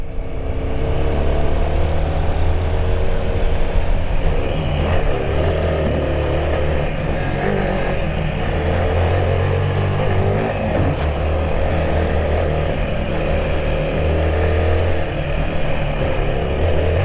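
A Royal Enfield Himalayan 450 motorcycle pulls away and accelerates on the road, its engine a steady, loud, continuous drone with rising revs and wind rush throughout.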